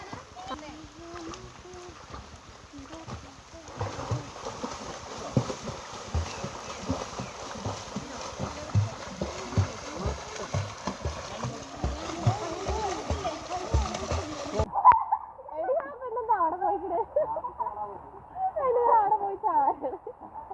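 Water splashes and sloshes as people jump and move about in a village pond during the rainy season in Kerala, with voices talking and shouting throughout, close and lively.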